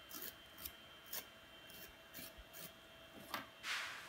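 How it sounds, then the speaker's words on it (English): Nail file rasping off excess nail wrap at the fingertip edge, a series of short, quiet strokes in an uneven rhythm, close and faint, with no talking. "you want to take the file and you just file all of the excess"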